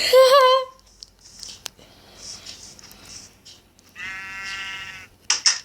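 Sheep bleat loudly in Minecraft: one wavering, nasal bleat opens, then a second bleat comes after a few quiet moments, with soft clicks and game sounds between them.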